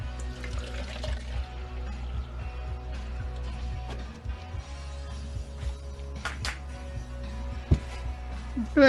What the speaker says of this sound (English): Oh, look at that bubbling.